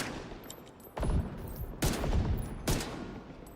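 Pistol gunfire in the shooter game The Division 2: three heavy shots spaced about a second apart, each with a booming report and a long reverberant tail, over quiet game ambience.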